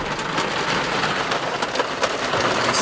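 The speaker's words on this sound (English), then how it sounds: "And it's been raining hard too." Heavy rain beats steadily on a car, a dense, loud hiss of drops with no pauses across the few seconds.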